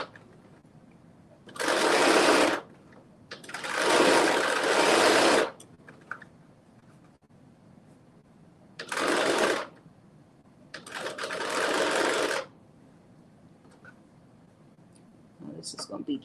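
A sewing machine stitches plush fabric around a curve in four separate runs of rapid whirring, some brief and some longer, each followed by a quiet pause.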